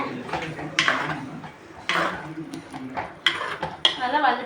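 Ground masala paste for Chettinad chicken being stirred in a pan, with repeated scraping clinks of a metal spoon against the vessel at irregular intervals over a soft background sizzle.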